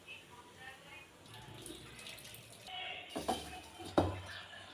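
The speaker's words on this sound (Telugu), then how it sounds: "ఇలా ఉడికాక నీళ్ళు వంపుకోవాలండి" Boiled water being poured off a pot while making bellam pasham, a jaggery sweet; faint trickling builds to a couple of close, splashy pours near the end.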